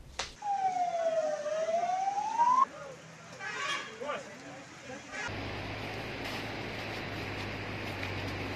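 An emergency siren wails with a rising and falling tone for a few seconds, followed by street noise and a steady low hum.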